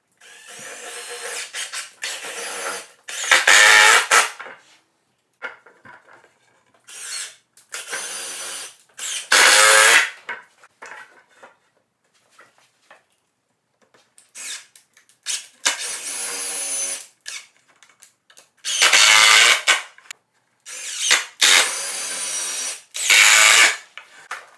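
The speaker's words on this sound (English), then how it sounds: "bury these screws all the way to the threads and then put your drill or impact in reverse" A drill or impact driver drives screws into wooden boards for a bowyer's bench, giving loud whirring bursts of a few seconds each, separated by pauses, close up and without speech.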